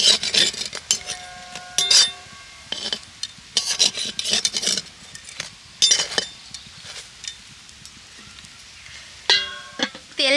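Eggplant slices dry-frying in a wok with no oil, turned repeatedly with a metal spatula: irregular scraping, rubbing strokes and clinks against the pan, close and fairly loud, with faint sizzle between the bursts.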